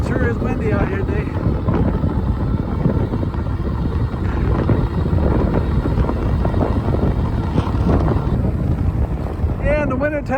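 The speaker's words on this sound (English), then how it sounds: "It sure is windy out here today." Strong wind buffets the microphone while riding an electric bike outdoors, a continuous rough low roar with gusty swells, and a voice talks briefly over it.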